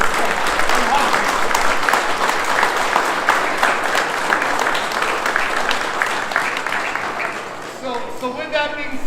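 A crowd at the Lawrenceville firehouse grand opening applauds firefighters' family members with sustained, full clapping that carries on for most of the stretch, easing off near the end as a voice begins.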